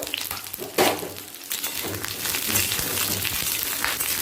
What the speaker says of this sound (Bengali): প্রথমে পটলটা তেলেতে দিয়ে ভেজে নেব